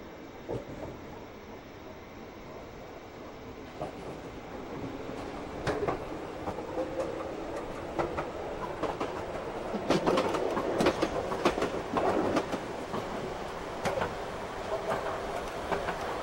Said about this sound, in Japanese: この電車は山手線田端上野東京方面行きです